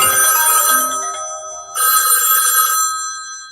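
A telephone rings loudly and close by, two bright electronic ringing bursts separated by a short gap, with no talking over it.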